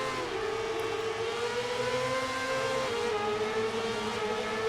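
Motorcycle engines in MotoGP 18 at the start of the San Marino Grand Prix, heard from the cockpit view: a steady, loud high-pitched engine drone that climbs through the gears, with a brief dip at a shift before the pitch rises again.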